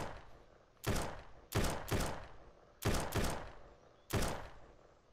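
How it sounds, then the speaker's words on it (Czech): Gunfire in the video game SurrounDead, six muffled shots heard from a distance, spaced irregularly, some in quick pairs, each with a short echoing tail. "Tu střelbu slyším zleva."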